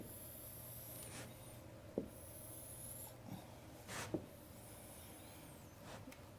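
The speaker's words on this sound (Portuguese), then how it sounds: "vamos desenhar aqui" Geometric figures drawn on a board, faint scratchy strokes and a few light taps over a quiet room hum, with no talking.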